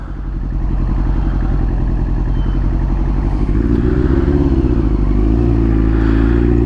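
A motorcycle engine idles loudly and close while warming up before an MOT check, a steady low throbbing rumble that swells slightly after a soft start, with no talk.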